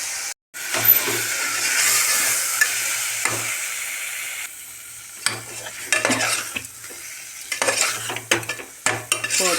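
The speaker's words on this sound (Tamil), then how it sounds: "போட்டு கொஞ்சம் நல்லா அப்படி பரட்டி விட்டுருவோம்." A utensil scrapes and stirs through goat spleen with coriander powder and salt sizzling in a pan, with intermittent clinks and a steady frying hiss underneath.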